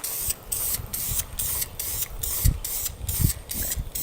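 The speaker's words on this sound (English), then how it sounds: "I'm going to go ahead, sand this down, repaint it like I said" A wooden Christmas tree yard decoration is sanded by hand before repainting, giving steady rhythmic scratchy strokes, about two per second, close and moderately loud, with no voices.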